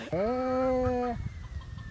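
Chickens on a small farm in Cabanatuan: one drawn-out, tonal call rings out for about a second, then gives way to quieter scattered farmyard noise.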